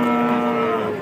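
A young female calf at the Bojonegoro livestock market gives one loud, close, sustained moo with a steady tone that fades slightly at the end.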